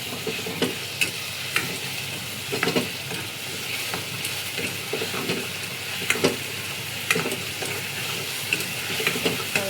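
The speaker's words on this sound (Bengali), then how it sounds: "তেঁতুল জল দিয়ে একটু নাড়বো" Tamarind water stirred into a sizzling chutney in a pan, with a spatula scraping and tapping in an irregular rhythm over a steady close hiss of frying; no speech.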